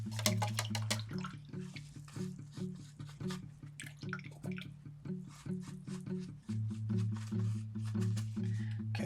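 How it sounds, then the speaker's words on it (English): A paintbrush being rinsed in a container of water, close rhythmic swishing and clinking strokes repeating quickly and steadily throughout. "Wash off the brush."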